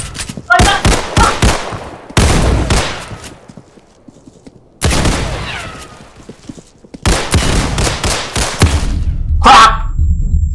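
G17 pistol gunfire in the Roblox game Criminality, loud clustered bursts of rapid shots separated by short gaps of quiet.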